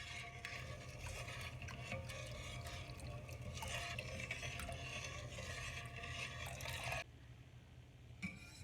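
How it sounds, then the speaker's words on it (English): Milk mixture for Sicilian bianco mangiare poured slowly and gently into a pan, a steady soft liquid stream running for about seven seconds, then cutting off to near quiet with a faint clink at the end. "Then pour it slowly and gently in the same pan."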